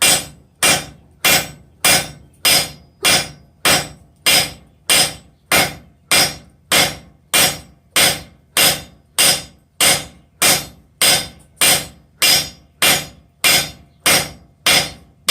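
Repeated hammer blows on hot 1-inch round steel over an anvil, struck with a 1¾ lb hammer while drawing a one-sided taper for a bick iron. Steady, even rhythm of roughly twenty ringing strikes, close and loud, with no talk.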